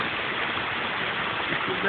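Water pours down a six-metre waterfall as a steady, broad rushing hiss, close and continuous, with people talking over it.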